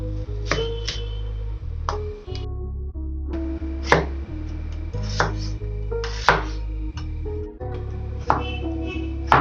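A knife chops onions and tomatoes on a cutting board in irregular sharp strikes over a low steady hum, close and fairly loud.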